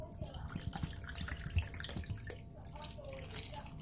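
Water pours into a pot of stuffed grape leaves, a soft continuous splashing and trickling close by with faint background noise and no talk over it.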